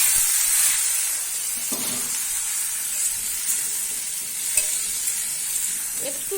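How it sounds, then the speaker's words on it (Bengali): Yardlong beans and mixed vegetables fry in hot oil tempered with five-spice seeds, a loud, steady sizzle broken by a few scraping stirs of the pan. "এই যে বরবটিটা একটু যদি আমি ভাজা ভাজা করে নিই"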